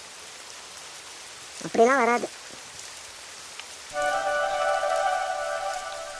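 Heavy rain falls steadily as a broad, constant hiss running through the whole scene. A short spoken phrase cuts in early, and a sustained tonal sound such as music joins later over the rain.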